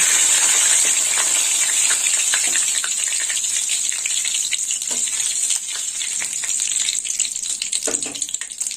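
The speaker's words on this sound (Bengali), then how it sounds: "তেল গরম হয়ে গেছে, তো ফোড়ন দেবো। ফোড়নে নিয়েছি 2টো শুকনো লঙ্কা, জিরে, আর দিয়ে দেবো 2টো তেজপাতা।" Dried red chillies, cumin seeds and bay leaves sizzle in hot oil in a pan, a steady bright frying hiss with crackling pops throughout, loud and close, no talk.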